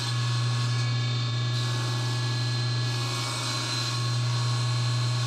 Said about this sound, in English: I'll just cut that once again on my mini table saw sled.